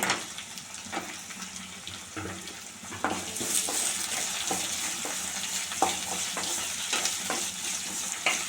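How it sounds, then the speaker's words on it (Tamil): Chopped tomatoes hiss and sputter in an oiled pan for chutney, a continuous sizzle punctuated by regular scraping and knocking as a spoon stirs them around. "நல்லா கிண்டி விடுங்க கிண்டி விட்டு ஒரு நிமிஷம் இருக்கட்டும் நல்லா வதங்கட்டும்"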